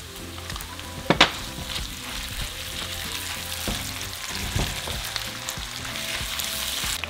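Chorizo fries in a pan with onion, a close, dense sizzle with a few sharp pops near the start and occasional stirring scrapes, no talking.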